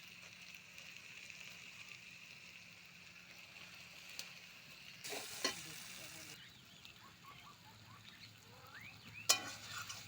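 Chicken with giant taro is fried and stirred in a pan, a soft, steady sizzle with occasional spoon scrapes and a couple of sharper clatters, fairly quiet and with no talking.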